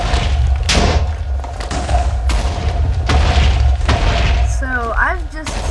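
A rapid-fire TNT cannon built with slime blocks in Minecraft fires a string of deep booms and thuds, repeating roughly every second or so, loud and close, with a rising whistle-like tone near the end.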